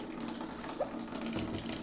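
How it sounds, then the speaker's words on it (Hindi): Tap water running into a container in a home kitchen in Arunachal Pradesh, India, a steady soft hiss and patter of flow throughout, fairly quiet with no talking. "अब पहले तो ये मैं पानी भरने दूंगी"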